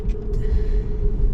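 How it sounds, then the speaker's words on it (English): A couple of quick, muffled sneezes sound inside a Tesla cabin during an FSD Beta 10.5 drive just off the freeway, brief soft bursts over steady low road and cabin hum. "Those are the quietest sneezes I've ever heard."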